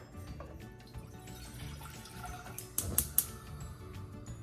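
A cup and a half of water is poured into a pan to make chocolate syrup for soaking a cake, with faint trickling and dripping that builds to a few louder splashes near the end.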